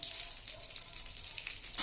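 Whole spices with cumin and a pinch of asafoetida, along with a dried red chilli and a bay leaf, fry in hot oil, giving a steady close sizzle that crackles brighter near the end, with no talking.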